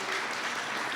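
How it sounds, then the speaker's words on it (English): Audience applause at a high school equivalency and career pathway graduation ceremony, a steady wash of many hands clapping throughout a brief moment, moderately loud and with no talking. "You can clap."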